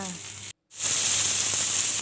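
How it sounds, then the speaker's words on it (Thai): Oil sizzles and crackles steadily as garlic fries in a pan, with a brief gap of silence before the hissing returns louder. "เอากระเทียมมาเจียวให้เหลืองหอม เจียวไปเรื่อยๆค่ะ"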